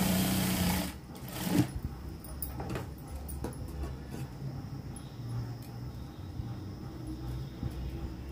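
A sewing machine stitches a straight seam along the double-folded edge of a sleeve on a knee-length frock, a steady mechanical whir with a few sharper knocks near the start.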